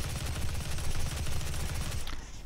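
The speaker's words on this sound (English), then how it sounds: "let's get some micro missiles" Micro missiles fire in rapid succession in Doom, a fast, steady string of loud, punchy mechanical shots that cuts off abruptly near the end.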